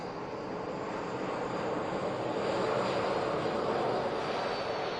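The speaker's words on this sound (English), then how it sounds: "this is the KLM arrival" A KLM Airbus A321neo jet arriving at Manchester Airport on a short flight from Amsterdam Schiphol, giving a continuous distant engine roar that builds gently and holds steady, with no voices.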